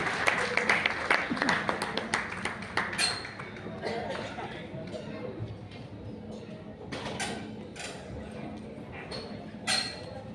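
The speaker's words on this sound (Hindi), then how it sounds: "एक बार जोरदार तालियां" Audience applause for Satish ji at a Rajarshi Shahu Maharaj birth anniversary gathering, a dense burst of clapping for the first few seconds that thins out under a voice speaking over a sound system.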